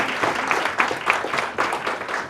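Audience applause at a civil society convening, a dense, steady patter of many hands clapping at moderate level, heard alone without speech.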